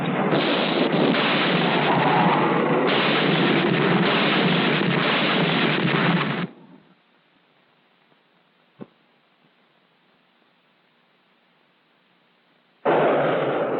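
Zuni rockets with penetrating heads, fired from F-100 jets, strike a concrete bunker in a 1963 US Air Force weapons test; a loud, sustained roaring blast rumbles for several seconds, cuts to near silence with one faint click, then the roar resumes.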